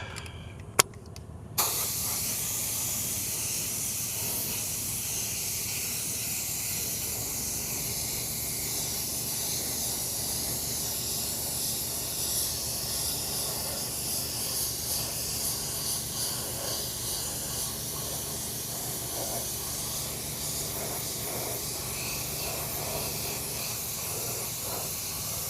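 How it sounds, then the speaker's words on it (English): Clear coat sprayed onto a car rim during a DIY rim repair, a steady, close hiss of aerosol spray running continuously for the whole stretch after a brief click at the start. "And then we'll cover that with clear coat."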